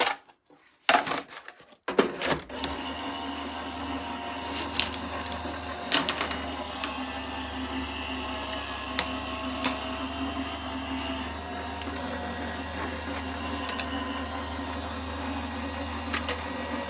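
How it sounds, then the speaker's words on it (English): A die cutting machine runs a gingerbread-figure card piece through with low-tack tape, giving a steady mechanical whir and hum with scattered small clicks and taps, close and continuous after a brief handling clatter at the start. "I'm just going to run that through my machine to cut that out"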